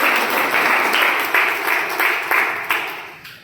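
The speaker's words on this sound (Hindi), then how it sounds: "पहले तो इनके स्वागत में हम लोग जोरदार ताली बजाएं।" Enthusiastic applause from an audience at a monthly branch meeting in Bichhiya, welcoming three guests; steady, fairly close clapping that holds for a few seconds with a few sharper surges, then begins to thin out.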